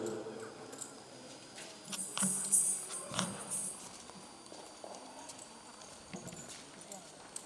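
Four horses ridden by students clip-clop on hard ground during a Republic Day horse salute ceremony, irregular hoof strikes at moderate distance under an outdoor crowd and public-address talk.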